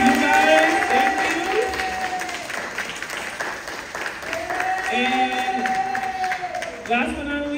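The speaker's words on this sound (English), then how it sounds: "So let's give a round of applause to you guys." An audience at an elementary school Black history play applauds steadily through the whole stretch, with cheering voices and talk rising over the clapping.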